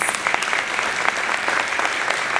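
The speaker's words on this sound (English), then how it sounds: "if you would give our panelists a round of applause" Steady applause from a crowd at a State of the City address, dense clapping for a panel filling the whole stretch at an even level, with no other sounds standing out.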